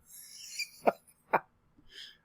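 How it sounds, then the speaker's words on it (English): Two short, sharp coughs from a laughing person, spaced about half a second apart, close to the mic, with soft breathy sounds before and after. "I'm making myself cough."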